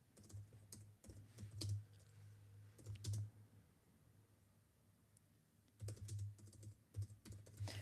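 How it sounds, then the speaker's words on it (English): Bursts of quiet computer keyboard typing, a few quick keystroke runs separated by a pause, with a low steady hum beneath; no one speaks. "So I'm trying to type and then read."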